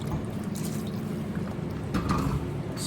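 Water trickles and pours into a simmering pot of brisket, a soft continuous liquid splash with a few brighter splashes toward the end, heard alone at moderate level.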